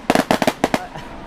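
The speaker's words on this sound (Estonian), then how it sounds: "Väike ilutulestik ka." Small fireworks go off at a rally podium celebration, about eight sharp pops in quick irregular bursts that end in a faint crackling tail.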